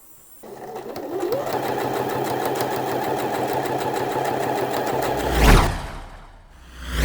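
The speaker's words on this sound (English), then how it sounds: "do a line of stitching joining that yoke piece to the back piece along there" A sewing machine stitching a shirt yoke piece to the back piece, running in one steady, fast, even whir for about five seconds close up, then slowing and stopping with a brief mechanical clunk and shift of the fabric.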